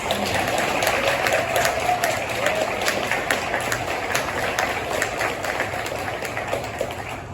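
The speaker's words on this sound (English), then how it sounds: "let us applaud you" A club-meeting audience applauds veterans, a dense, steady wash of clapping that holds loud for the full stretch with a faint voice or two mixed in.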